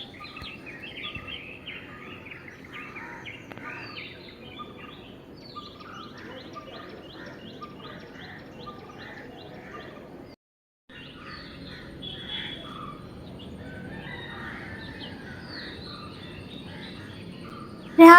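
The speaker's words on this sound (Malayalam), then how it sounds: "രാവിലെ ആ കിളികളെ സൗണ്ട് ഉണ്ടല്ലോ അത് കേൾക്കുമ്പോൾ തന്നെ വലിയൊരു സമാധാനമാണ്." Morning birds sing outdoors with a steady chorus of chirps and tweets mixed with insect buzzing, moderately faint and continuous, broken by a brief silent gap partway through.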